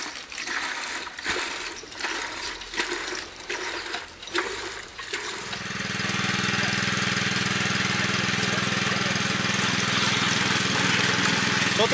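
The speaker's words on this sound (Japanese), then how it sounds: "手押しポンプをこう操作して水を汲み上げます" A hand pump starts drawing water from an emergency water storage tank during a drill at a school, giving a steady loud churning, splashing flow that runs continuously after a few seconds of irregular knocks and clatter.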